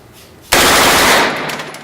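A machine gun fires a single short full-auto burst at a Las Vegas shooting range, a dense, loud, roaring blast of rounds lasting under a second, followed by a fading echo.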